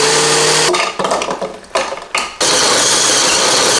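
A very old kitchen blender blending plums runs loud and close in short bursts, its motor whining and cutting out several times before running steadily again.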